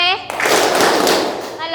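A class of children claps hands together during a classroom game, one short dense burst of clapping lasting about a second. An adult voice is heard just before and after it.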